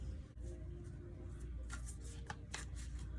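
Soft riffling and light slaps of tarot cards being shuffled close by, a few quick bursts over a low steady hum.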